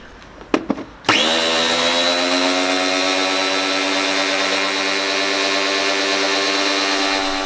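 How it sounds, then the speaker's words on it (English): Pressure washer on a mountain bike cassette: a couple of short clicks, then a loud motor starts and runs with a steady, sustained whine and hiss that continues without a break. "I'm now just going to use the pressure washer on it"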